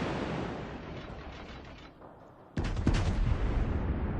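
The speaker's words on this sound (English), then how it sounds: "put some shells over at that Kirov. I think I get a few hits through the superstructure." Heavy naval gunfire in World of Warships as shells are fired toward a Kirov cruiser: a steady roar of distant booms, then a sudden loud close salvo blast around the middle that rumbles on to the end.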